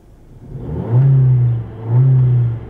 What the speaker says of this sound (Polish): Po wkręceniu na obroty do 4000 bez rev limiter,